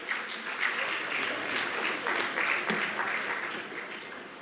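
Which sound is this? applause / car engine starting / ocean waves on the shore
applause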